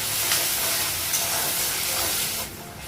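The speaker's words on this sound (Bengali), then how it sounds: "পেঁয়াজটা ভাজা হয়ে গেছে" Onion frying in leftover oil in a pan with panch phoron, dried red chilli and green chilli, a steady loud hiss that holds, then softens near the end.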